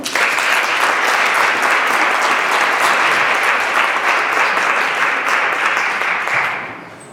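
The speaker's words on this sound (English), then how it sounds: "Let's give Andy a round of applause" Steady, dense applause from an audience at a Cache Valley Oasis gathering for Andy, a musician about to play original songs, holding evenly loud for several seconds before tapering off at the end.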